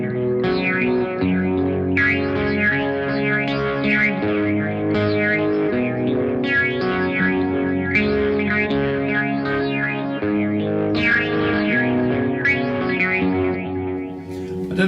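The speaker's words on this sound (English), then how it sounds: "So that's phaser, classic vibe." Electric guitar runs through a BOSS MD-500 modulation pedal on its classic-vibe phaser setting, sustained chords swirling and sweeping continuously, close and full with no talking.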